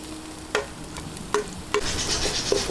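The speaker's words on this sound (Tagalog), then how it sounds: "Ngayon, umpisahan po natin ang paggigisa. Ayan. Hintayin lang po nating mag-light brown yung ating bawang." Garlic sautéing in a pan for pork dinuguan, a steady soft sizzle with several clinking stirs of a utensil against the pan, close and fairly quiet.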